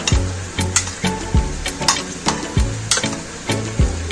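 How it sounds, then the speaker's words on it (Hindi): A spoon mixes chana chaat with tamarind chutney in a bowl, making rhythmic scraping and clinking strokes about twice a second, close and loud. "अब इसको हमें चम्मच की मदद से अच्छे से मिक्स कर लेना है।"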